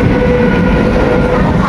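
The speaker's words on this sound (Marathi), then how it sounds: "सगळं ट्रेन आता चालली बघा" A Mumbai local train rolls along toward Thane, a steady loud rumble with low clatter filling the whole moment and no voices.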